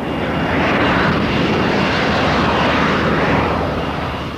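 A Harrier jump jet engine roars, loud, steady, continuous and broadband, holding close and powerful throughout with a slight swell in the middle.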